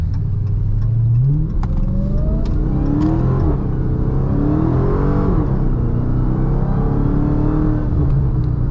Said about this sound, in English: So I didn't get to experience the acceleration because it was spinning and cutting the power